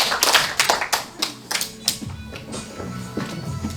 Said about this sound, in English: Clap twice if you're quiet